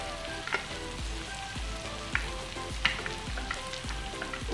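Butter melts and sizzles on a hot tawa with boneless Lahori-style tawa chicken, a soft steady fry punctuated by several dull thumps and scrapes of a spatula at regular intervals.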